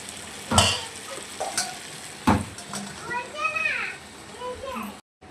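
Mutton frying in a pan with tomato, a low sizzle marked by several sharp stirring scrapes, while a voice and speech run over the cooking noise close by.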